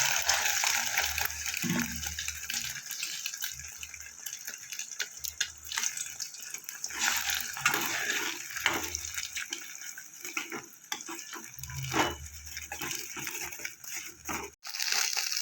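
Tap water running steadily while a pan is washed in a kitchen sink, a constant close splashing gush broken by occasional clatters and scrubbing knocks, with no talking.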